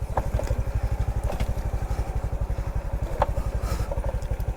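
A motorcycle engine runs at a steady, lumpy idle close by, its rapid regular thumping continuous throughout, with faint outdoor sounds behind it.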